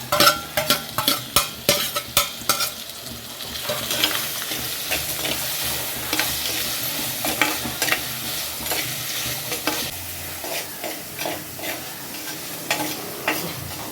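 Tomatoes frying in a pan of oil for fish curry, a steady loud sizzle under quick metal-spoon stirring and clinks that are dense at first and then settle into a continuous hiss, close up, with no talk.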